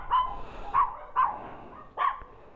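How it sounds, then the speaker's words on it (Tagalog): Dogs bark four times in an uneven rhythm, moderately distant and fairly faint over low background hiss. "Ingay na mga aso."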